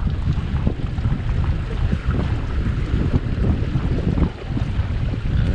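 A fishing boat on a walleye lake runs steadily across the water, its engine rumble blended with wind buffeting the microphone and splashing water, continuous and loud with no talk.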